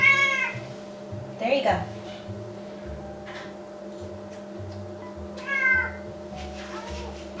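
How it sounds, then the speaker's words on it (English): A cat at a kitchen floor meows repeatedly, begging for more canned chicken, with several drawn-out calls spaced across the scene, nearby and clear over a low hum while a person speaks briefly. "I've got a cat down here begging for more."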